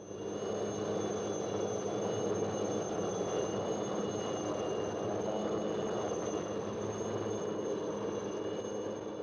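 A military helicopter on a resupply flight to a jungle fort in Borneo in 1966, a steady, loud turbine whine and rotor drone that holds unbroken and even throughout, with no voices.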